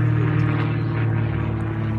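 An airplane passes overhead with a steady, broad engine roar that stays loud and continuous for about two seconds, with no voices.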